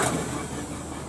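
A PO Haryanto Patas bus engine runs during a test-run at a Yogyakarta bus terminal, giving a steady close mechanical drone with no talk.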